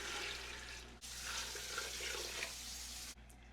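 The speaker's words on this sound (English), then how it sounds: "throw some water in there" Water poured from a tap into a stock pot holding carrots, part of an onion with peel, dill and parsley, a steady splashing rush that runs for a few seconds, briefly breaking once midway.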